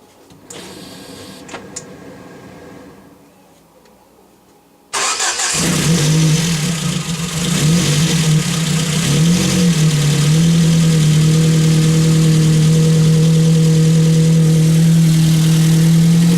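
A Ford Focus sits quiet for a few seconds before its engine cranks and catches abruptly, then settles into a loud, steady running drone with slight rises in pitch, heard close up with no talking.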